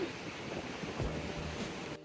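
Strong wind gusts buffet the microphone over a steady roar of ocean surf breaking on a Charleston, South Carolina beach, loud and continuous throughout with no talking.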